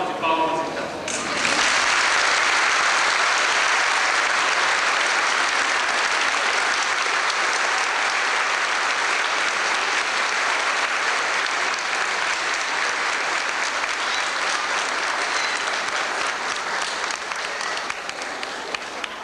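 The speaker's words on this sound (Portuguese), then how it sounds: "Todos vocês vamos saudar com uma grande salva de palmas então." A gathered crowd at a family event gives a big, sustained round of applause, loud and even for nearly twenty seconds after a brief opening burst.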